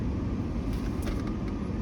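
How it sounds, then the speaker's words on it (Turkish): A car approaches from behind on a road in Adana, a steady close engine-and-tyre rumble that holds without a break for the short stretch. "Araba geliyor ya şu an."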